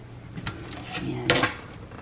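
A tray of sausage and cheese crescent rolls goes into the oven. Metal clanks and rattles come close up, with a sharp clatter and oven-rack scrape near the end of the short burst of handling.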